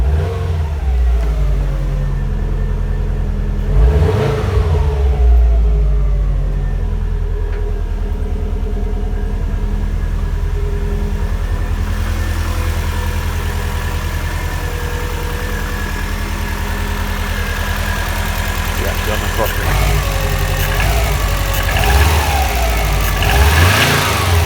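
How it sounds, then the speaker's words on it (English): A stone-cold Subaru WRX STI engine revs loudly and close, rising and falling through a few throttle blips over a rough, rumbling idle, with no talking. "So I'll give it a little bit of rev, you know."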